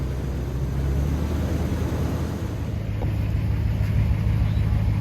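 A Dodge sits stuck in wet, muddy grass while its engine revs, producing a steady low rumble with a sustained drone and no clear rise or fall. Wind noise rushes across the microphone throughout.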